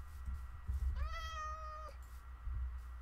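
One clear, fairly close meow from a cat in Minecraft, a single drawn-out call lasting about a second over low background rumble.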